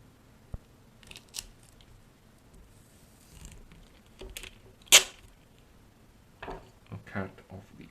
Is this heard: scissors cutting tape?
yes